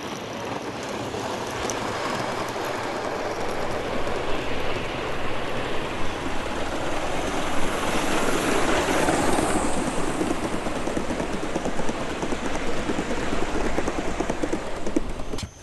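A Gauge 1 live steam model train modelled on the LNER runs along a garden railway, a steady rapid clatter of wheels over rail joints with hissing steam, building slightly louder midway and continuing without pause.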